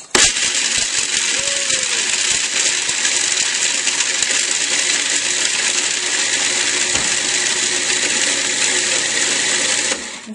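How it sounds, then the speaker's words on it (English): Food processor grinding nuts for a raw blueberry pie crust, a loud steady whirring motor with faint rattling of pieces inside, running continuously for about ten seconds before cutting off. "the important thing when grinding nuts for this is that you get them ground without them becoming nut butter"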